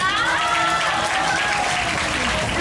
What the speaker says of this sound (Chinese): 没错，拍手。